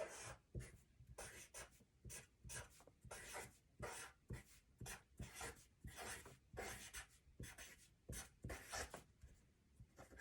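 A pencil scratches across paper as a sentence is written by hand, close and quiet, in short rhythmic strokes and pauses throughout.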